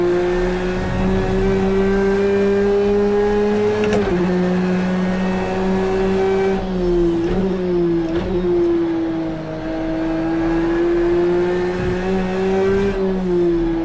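A 2017 Porsche 911 RSR race car in Project CARS 2 holds a loud, steady high-revving engine note throughout, dipping briefly at gear shifts and rising again, close and continuous with no talk.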